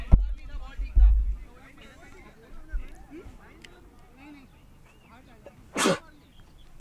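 A single sharp sneeze bursts out near the end, close and loud against quiet background during a live cricket broadcast at Banks Field in Prague, with faint commentary murmuring earlier.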